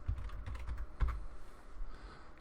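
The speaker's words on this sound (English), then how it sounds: "Let's type npm start" Quick, light clicks of keys being typed on a computer keyboard, close and fairly soft, in an uneven burst with one firmer tap near the middle.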